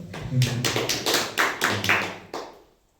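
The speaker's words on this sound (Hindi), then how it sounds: "कप्तान सर के लिए ताली बजाइए भाई" An audience applauds for the captain, a short burst of several uneven claps in a room, fairly close and loud, tapering off and ending within about three seconds.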